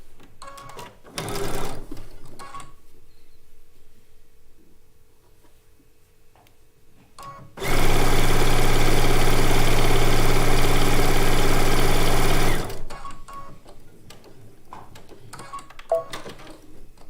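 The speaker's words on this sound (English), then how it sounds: "Then we're going to sew those together before we do the next step." A sewing machine stitches quilt fabric pieces together for a blue and white quilt top in one loud, steady five-second run, with quieter handling noises before and after and no talking.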